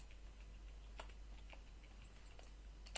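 Soft clicks of typing on a computer keyboard while entering text into an Excel spreadsheet, a few scattered keystrokes over a low steady hum, faint and close.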